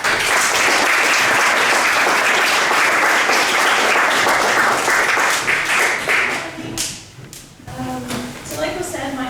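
Loud, sustained applause from an audience at a Special Olympics British Columbia gathering welcoming a speaker, dense clapping that tapers off near the end as a voice begins.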